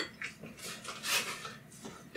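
A spoon stirring polenta into beef stew in a pot gives quiet, soft scraping and clinking against the pot for a couple of seconds, with no talk.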